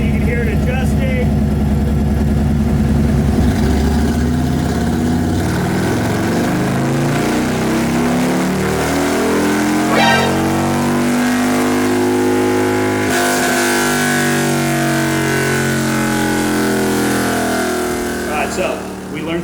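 A Harley-Davidson M8 Lowrider tuned for E85 roars on a dyno, its engine held at high revs for a long, steady pull with rising and falling pitch sweeps, loud and close, with voices talking over it.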